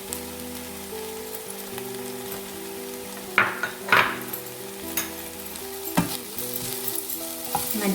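Ground coriander and turmeric sizzle and fry steadily in oil in a pan for a prawn roast, with a few louder scraping stirs of a spoon partway through and no talking.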